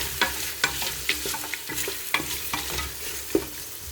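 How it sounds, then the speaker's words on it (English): Beef sizzles in a pot with cumin seeds for pilau, with a steady hiss of frying and repeated scraping and stirring strokes at an even pace. "So I'll put our meat, and then I'm going to put cumin seeds."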